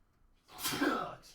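A single sneeze from someone lying beneath a car in a home garage, a short sharp burst close to the ear that rises quickly and fades after about a second.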